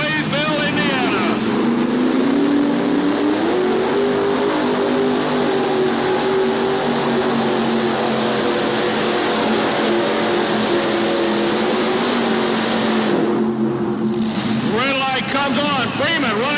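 A loud pulling tractor engine roars steadily throughout at a truck and tractor pull, fitted with experimental rear tires, its pitch rising then holding, with a voice talking over it and a brief dip near the end.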